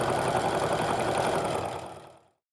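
A home sewing machine stitches fabric for a nesting bag in a steady, fast mechanical whir with rapid needle rhythm, close and clear, then slowing and stopping near the end.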